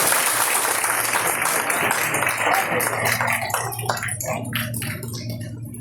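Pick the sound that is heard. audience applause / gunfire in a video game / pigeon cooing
audience applause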